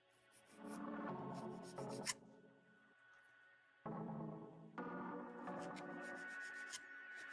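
Rubbing a plastic part from a Bandai High Grade Gundam Age-1 Titus model kit to clean off sprue nubs: quiet, steady rasping strokes in two stretches, separated by a brief lull.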